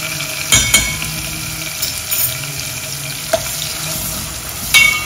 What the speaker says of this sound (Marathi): मी आता याच्यामध्ये थोडीशी जागा करते आणि हिंग टाकते